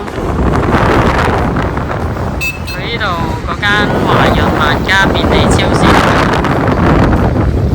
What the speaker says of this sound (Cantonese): 聽唔聽到啲風聲？